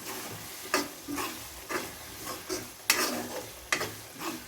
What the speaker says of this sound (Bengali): মশলাটার অবস্থান দেখি, মশলাটা কষানো হয়ে গিয়েছে আলহামদুলিল্লাহ।